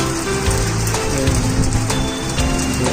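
Heavy rain with gusty storm wind after a spell of intense heat, roaring loud and constant close by as a dense wash of drops drumming on surfaces.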